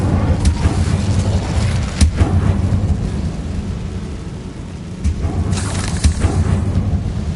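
Incendio fire spell cast in Hogwarts Legacy, heard as a steady rumbling whoosh with several sharp booming bursts, roughly at 0.5, 2, 5 and 6 seconds, with no one talking.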